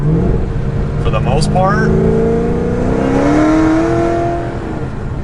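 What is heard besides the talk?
Cadillac CT5-V Blackwing loud exhaust in sport mode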